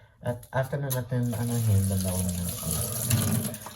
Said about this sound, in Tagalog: italsik-talsik ko lang yung tubig sa mga parts na may sabon pa